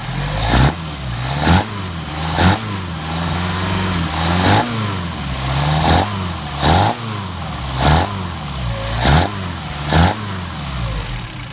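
Mercedes 190SL engine with Solex carburetors being revved in cold weather, about ten sharp throttle blips rising and falling in a regular rhythm over a steady idle, loud and close with no talk.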